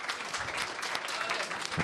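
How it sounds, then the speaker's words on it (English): An audience at a live show breaking into applause, a dense, continuous wash of clapping that fills the room at moderate volume for the full couple of seconds. "let's give another round of applause."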